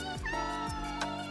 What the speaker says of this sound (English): I hear a cat, I hear a cat, I hear a cat.